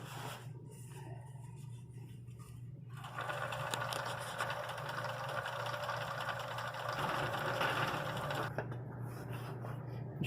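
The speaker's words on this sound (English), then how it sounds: "this stuff here is very difficult to feed through the sewing thing. The machine doesn't drag it along like regular material." Sewing machine stitching vinyl material, a faint steady mechanical hum with rapid needle clatter that runs for about five seconds between quieter idle stretches, no talking.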